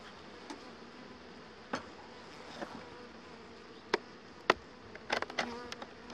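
Honeybees buzz steadily around an open hive while a beekeeper moves colonies from a two-box brood chamber into a single box of fresh comb, with sharp clicks and knocks of frames and equipment scattered through the hum.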